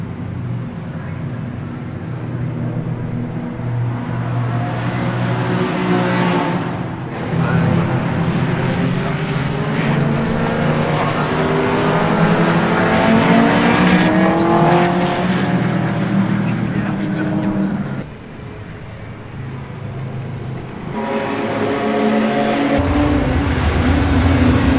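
Classic cars on the Tour Auto 2022 road rally pass by one after another, engines swelling and fading with rising and falling pitch, loud and close over a continuous road and motor rumble.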